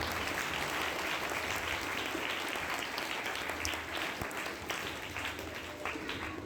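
Steady, dense applause from a congregation fills the church at a feast celebration for St. Anthony of Padua, continuous and fairly even throughout without a break.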